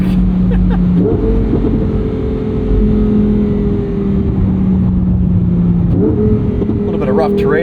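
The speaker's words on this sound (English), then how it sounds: "A lot of wind noise from that roof rack." Steady rushing wind noise from a roof rack over the droning engine of a 2023 Lamborghini Huracán Sterrato, with engine pitch rising and falling as the car moves.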